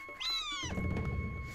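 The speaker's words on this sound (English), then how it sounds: "We got another pissy cat." An annoyed cat in the video game Naruto Ultimate Ninja Storm gives one drawn-out, rising and falling meow, then game background noise continues underneath.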